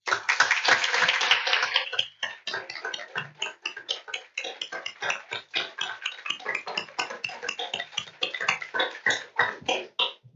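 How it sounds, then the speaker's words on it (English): Applause from a city council meeting audience honoring a youth court member, starting as a dense burst of clapping that thins into scattered, separate claps and taps over the remaining seconds. "how about if we have her stand up so we can all give her a round of applause?"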